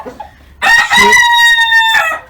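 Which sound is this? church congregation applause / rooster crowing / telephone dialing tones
rooster crowing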